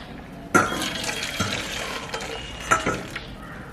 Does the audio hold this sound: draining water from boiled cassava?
yes